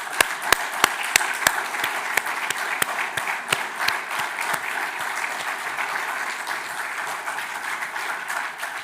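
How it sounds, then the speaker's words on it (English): Audience applause at a lecture event, a full, even wash of clapping in a hall with several sharp individual claps standing out early on. "this is the time that will be, an applause and appreciation will be needed"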